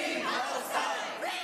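Protesters supporting Palestine chant and boo inside the Indiana State House, a sustained crowd roar echoing through the hall, fairly faint and distant with no clear individual voices.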